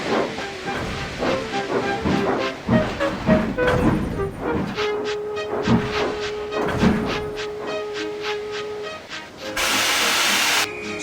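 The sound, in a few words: steam locomotive hissing steam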